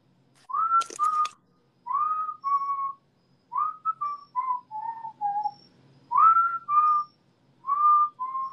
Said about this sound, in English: whistle his song to bring him forth